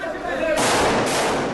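Gunfire in Gaza cracks out as a dense burst of sharp shots, loud and harsh, crowding over a background that sounds like speech.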